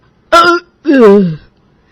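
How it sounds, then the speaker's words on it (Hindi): A voice acts out two sour burps in quick succession, short, loud, throaty voiced belches heard up close against silence. "पिछले कुछ दिनों से रोज खट्टी डकार मार रही हो।"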